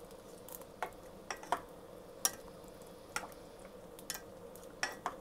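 Chicken adobo stirred in a pan after ketchup goes in, with faint, scattered wet clinks and squishes at irregular intervals over a quiet, low background.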